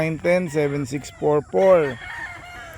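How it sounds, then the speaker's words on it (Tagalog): Chickens and roosters on a Filipino free-range farm, with a nearby rooster crowing in drawn-out, wavering calls mixed with shorter clucks and squawks, loud and close, no talking. "So madami pa po tayo manok ho."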